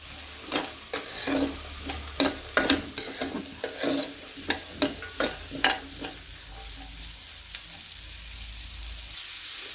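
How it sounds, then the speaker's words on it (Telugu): Onions fry in hot oil in a pan until brown, with a steady sizzle broken by repeated spatula stirs and scrapes that cluster in the first six seconds and then ease off. "ఈ విధంగా వేపుకోవాలి ఆనియన్స్ బ్రౌన్ కలర్ వచ్చేంత వరకు వేపుకోవాలండి"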